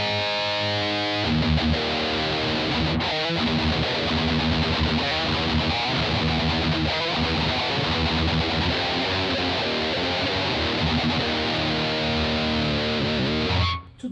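A heavily distorted electric guitar plays a sustained lead line on an Ibanez RG550 Genesis with a Seymour Duncan Black Winter pickup, loud and saturated, continuing without pause before cutting off at the end.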